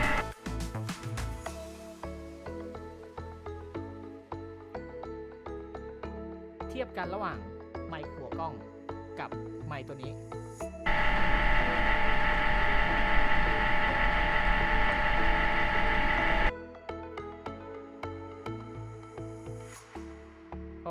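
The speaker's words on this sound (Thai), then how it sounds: "แค่ตัวคอมเพรสเซอร์แอร์" An air conditioner compressor captured by a FIFINE A8 microphone, a loud steady broadband roar lasting about six seconds in the middle, with fainter hum and other room sounds before and after.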